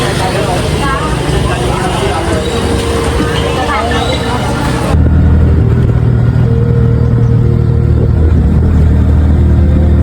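A nearby auto rickshaw engine rumbles at a steady idle. The sound grows louder and heavier halfway through on a quiet Saturday in a rural taluka town during the monsoon.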